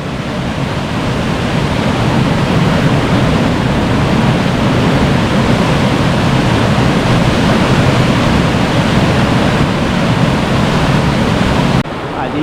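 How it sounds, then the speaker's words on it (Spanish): A waterfall on the Genal river roars as a loud, steady broadband rush that fills the whole scene without a break. "Tenemos allí la última de las cascadas."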